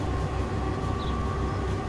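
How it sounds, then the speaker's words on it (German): Trains rushing past in the Transport Fever 2 simulation game, a steady loud rumbling roll of rail cars with a faint high whine, continuous throughout with no voices. "Da sind auch gerade noch mal ein paar Züge durchgerauscht."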